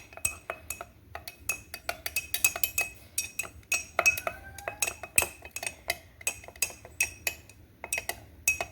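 Dehydrated sourdough starter being stirred in a small container on a scale: a quick, busy run of close metallic clinks and ticks of a spoon against glass, steady and fairly loud with no talking.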